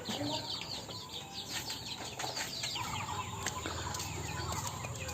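Local and golden-breed chickens penned together and fed grain, clucking and chirping in an overlapping chorus at moderate distance over a dense background hiss.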